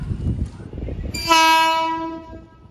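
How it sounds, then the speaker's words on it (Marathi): A train passing nearby, a low rumbling approach followed by a loud, sustained horn blast that fades gradually as the train moves on. "मागची मोठी पण ट्रेन आली, तिला जाऊ दे चल"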